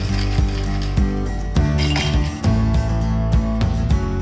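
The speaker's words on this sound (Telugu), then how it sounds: "ఇప్పుడు సర్వింగ్ చేయడానికి ఒక 2 కప్పులు తీసుకున్నానండి। అందులో క్రష్డ్ ఐస్ వేసుకోవాలి।" Crushed ice drops into glass serving cups, making a rapid series of close clinks and rattles at irregular intervals.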